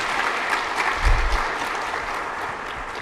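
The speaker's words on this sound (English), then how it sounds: "Big round of applause for Alex." An audience claps for a speaker at a business community event, a steady, moderately loud round of applause sustained throughout with no voices.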